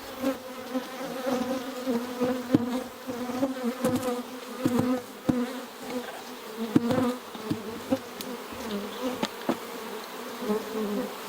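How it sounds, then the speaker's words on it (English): A dense, loud buzz of many honey bees rises from an open beehive box, wavering in pitch and intensity, with occasional sharp knocks of handling woodenware. "This has a lot of bees and some honey"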